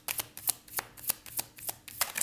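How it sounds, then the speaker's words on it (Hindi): Tarot cards shuffled and drawn for a reading, a string of quick crisp riffling bursts in steady rhythm, close and fairly clear with no voices. "हम 2 कार्ड्स और ले लेते हैं कि नेक्स्ट क्या होगा।"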